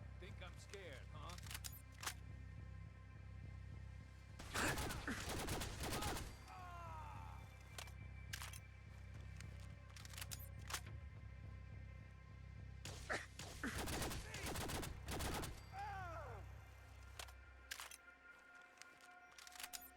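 Bursts of gunfire in Fallout 4, two dense volleys of shots separated by quieter stretches, with game music and other sounds running underneath.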